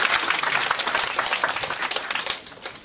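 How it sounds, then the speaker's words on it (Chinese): An audience at a sales presentation claps in a dense, steady burst of applause, close and loud, fading slightly toward the end with no voices over it. "来掌声一下"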